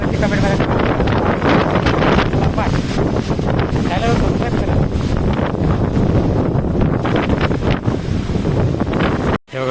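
Strong storm wind buffets the microphone in a village as unseasonal rain begins, a loud continuous roar with gusting swells throughout, cutting out abruptly near the end.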